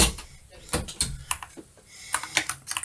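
Keys on a computer keyboard click in quick, irregular bursts while a school address is typed, close and fairly loud, with faint speech underneath.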